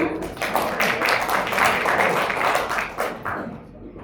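Schoolchildren applauding at a school quiz competition final, a dense burst of clapping that swells, holds for a few seconds and then trails off, with a few voices in the background.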